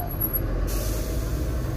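A bus's air brakes hiss in slow-moving road traffic, a short sharp high release at the start fading into a steady low rumble of engines and passing vehicles nearby.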